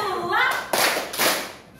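A classroom of students claps a short counted rhythm pattern, a few sharp group claps in quick succession after a brief stretch of voices.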